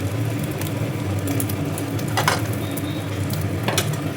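Egg frying in a pan in a home kitchen, a soft continuous sizzle with faint crackles and occasional stirring or utensil taps, moderately quiet with no talking.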